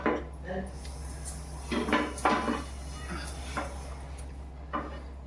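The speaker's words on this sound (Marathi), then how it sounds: "गॅस पेटू त्याच्यावर तवा ठेवू" A coated metal bhakri griddle clanks onto a gas stovetop, with a few scattered clatters and knocks over a low steady hum.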